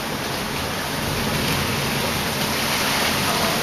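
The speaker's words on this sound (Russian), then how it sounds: "Это град." Hail falls hard during a squall-wind storm in Moscow, making a dense, steady, unbroken roar of impacts throughout at constant loudness.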